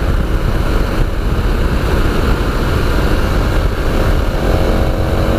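A 2017 KTM 1290 Super Adventure T engine drones steadily and loudly while the bike is ridden briskly along twisty roads, mixed with constant wind rush and no pauses.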